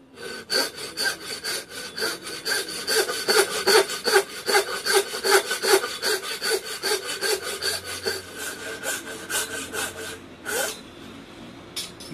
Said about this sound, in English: You want to saw for the wedge before you do the final fitting